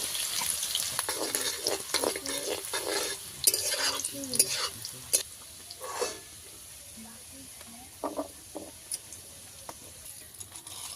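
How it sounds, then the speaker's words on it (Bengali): Carrots frying in oil for a vegetable dal with mustard oil and ghee, stirred with repeated scraping and clattering against the pan over a steady sizzle, with a faint run of water near the end. "গাজরটা ভাজা করে নিয়ে নামানো হবে।"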